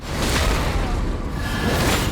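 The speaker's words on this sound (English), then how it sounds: "Wait for the explosion." A loud, sustained explosion in Elden Ring, a dense rumbling roar that fills the whole moment without letting up.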